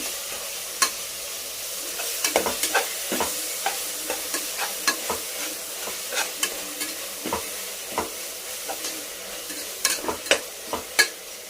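Tomatoes sautéed and stirred in a pan for tomato rice, a soft steady sizzle broken by frequent sharp scrapes of a spoon against the pan at an uneven rhythm, close by with no voices.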